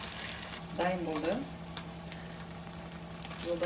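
Food sizzles and fries in a hot pan with a steady crackling hiss, close and continuous, while a voice briefly speaks over it.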